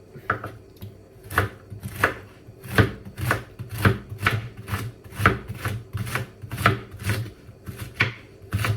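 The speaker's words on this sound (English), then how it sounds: "I'm gonna cut these into smaller pieces, into small pieces" A knife chops food into small pieces on a cutting board in a home kitchen, with steady, evenly spaced sharp knocks repeating about once or twice a second, close and clear.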